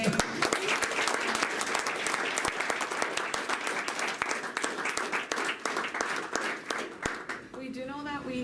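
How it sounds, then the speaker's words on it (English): An audience at a research program presentation session gives a final round of applause for the presenters, loud sustained clapping with sharp individual claps, and a voice begins speaking as it fades at the end. "I do want to offer a final round of applause to all of the people who presented today."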